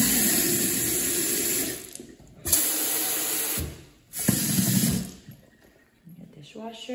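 Water gushes hard from a tap, cutting off and restarting twice in strong bursts before tapering away.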